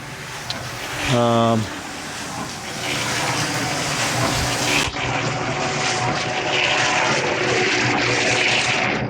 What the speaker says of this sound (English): What I'm going to do is I'm going to pour that batch and see where I'm at.